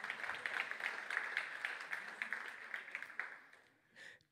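A church congregation claps in a steady, dense wave of applause for about three seconds, then tapers off, followed by one brief final flurry.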